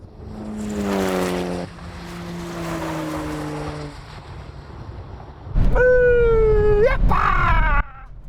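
A modified car, such as a Subaru, Mitsubishi or Toyota, launching in a drag race: the engine revs high, drops, then screams loudly through a rising gear pull before cutting off.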